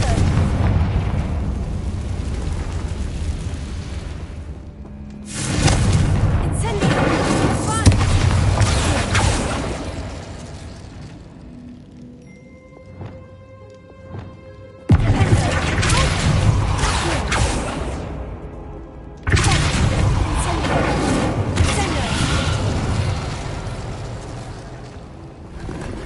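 The Confringo blasting spell in Hogwarts Legacy sets off loud booming explosions with long rumbling, roaring tails, repeated in several heavy bursts broken by a quieter stretch of faint tonal effects in the middle.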